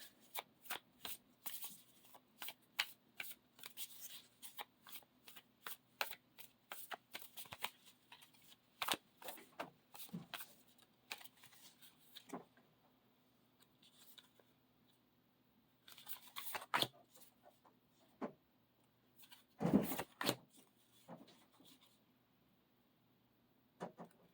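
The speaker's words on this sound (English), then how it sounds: "I've got my Druid Tarot today, so let's pull you a tarot spread." Druid Tarot cards are shuffled by hand in quick repeated bursts of riffling and sliding, close and crisp against a quiet room, with pauses between bursts.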